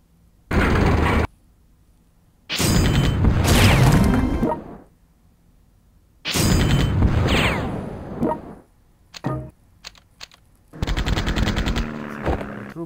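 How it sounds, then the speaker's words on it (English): Rocket artillery firing in the World Conqueror strategy game during a Battle of Kursk scenario: loud bursts of rapid rocket launches and explosions in several separate volleys, with short quiet gaps between them. "Now I use my rocket artillery."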